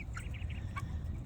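Cornish cross meat chickens in a chickshaw give a few soft, close clucks and brief calls over a steady low rumble of background noise.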